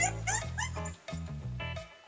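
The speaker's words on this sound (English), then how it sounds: "a camera captured a dog that mistook this girl's hood for a toy" A dog yips and whimpers in short, excited bursts, caught on a security camera while it tugs at a girl's hood as if it were a toy.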